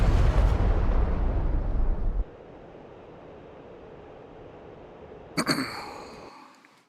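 Bombs exploding in the DCS flight simulator game: a heavy, rumbling blast that holds for about two seconds, then a low, lingering roar, and a second sharp, nearer burst near the end that fades away.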